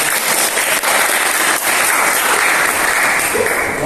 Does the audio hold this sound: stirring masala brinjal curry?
no